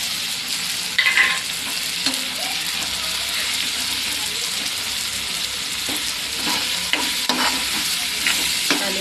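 Cut potatoes frying with soft cooked onion and tomato in a pan, stirred steadily, a dense continuous sizzle with scraping strokes of the spoon, close and fairly loud.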